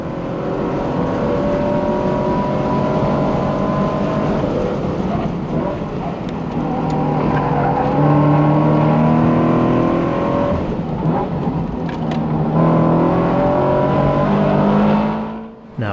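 High-horsepower race cars, including GT cars, run at speed on a track. The engine drone is loud and sustained, with shifting tones as cars pass and accelerate, heavy wind noise over the microphone, and no talk.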